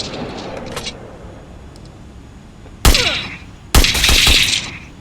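Loud game gunshots ring out in an offline Free Fire style shooter, with two heavy blasts a second apart, the second trailing into a sustained burst of firing after a quieter stretch.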